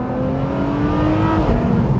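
Ferrari 599 SA Aperta engine in race mode, a loud, sustained rising drone that climbs steadily in pitch close to the microphone, with no talk over it.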